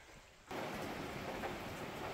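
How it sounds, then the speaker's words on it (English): Rain falling outdoors beside wood stove cooking starts abruptly as a broad, steady hiss after a quieter moment, then stays even and continuous, faint and distant-sounding, with no speech. "The rain's picking up"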